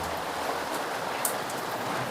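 Rain falling outdoors onto a street beside a pile of discarded furniture, a steady soft hiss with a few brighter drip ticks, no voices.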